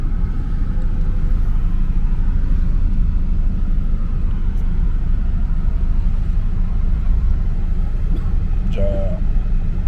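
Vehicles stuck in a traffic jam after a road accident produce a loud, steady engine rumble that runs without a break, with a brief higher tone near the end.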